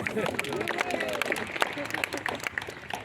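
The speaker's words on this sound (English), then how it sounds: "How about giving him another round of applause?" Audience applause at a Māori cultural performance: dense, steady clapping from a crowd for about three seconds, with murmuring voices mixed in.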